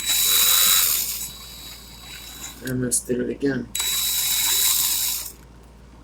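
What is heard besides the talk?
power drill running in reverse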